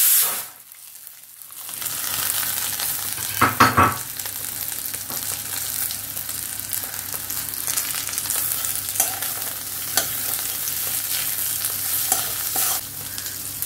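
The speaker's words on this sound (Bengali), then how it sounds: "এগুলোকে একটু ভালো করে ভাজা ভাজা করতে হবে, তবে পুড়ে না যায়।" Onions and dry fruits frying in a pan, giving a steady, close sizzle broken by a few louder stirring scrapes, with no talking.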